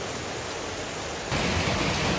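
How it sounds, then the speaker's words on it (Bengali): Steady, dense hiss of heavy rain pouring down in a rainforest in Thailand, growing louder after the first second. "এখন অনেক বৃষ্টি পড়ছে বৃষ্টি থামার কোনো নামই নেই"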